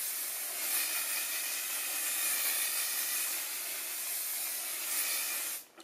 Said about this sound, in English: And taking some hairspray, I'm gonna spray the hell out of this.